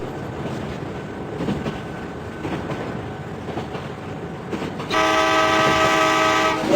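A train rumbles along a bridge with a steady clatter, then a loud sustained horn blares and holds to the end.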